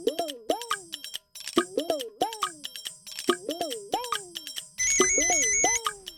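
A phone ringtone plays as a repeating series of bright, chirpy electronic tones, fairly loud and close, with a steady beeping tone joining near the end.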